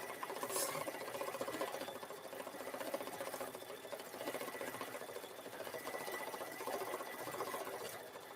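Embroidery sewing machine stitching free standing lace, a rapid steady mechanical chatter running continuously at moderate level with no voices.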